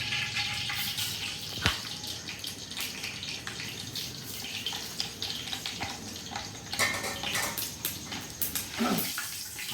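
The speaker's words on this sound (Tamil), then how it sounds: "வெந்தயம் தாளிப்பு." Fenugreek seeds tempering in hot sesame oil for a fish curry, a dense, continuous sizzle and crackle close up, with a couple of sharp pan knocks.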